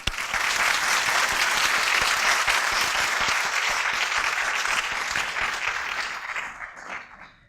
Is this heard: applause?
yes